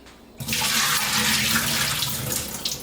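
Rinse water from soaked saltfish draining into a sink, starting abruptly as a loud steady gushing splash that carries on to the end with no talk.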